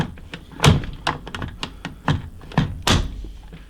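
Metal-reinforced AK magazine being worked into and out of a PSA AK-P GF3 pistol on a tabletop, a series of close, dull thunks and taps at irregular intervals, some harder than others.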